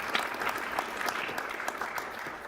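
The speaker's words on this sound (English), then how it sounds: "A round of applause for Slow Food Martha's Vineyard and this incredible event that they pulled together here." An audience applauds Slow Food Martha's Vineyard at an indoor event, a continuous patter of many hands clapping at moderate volume with no voices over it.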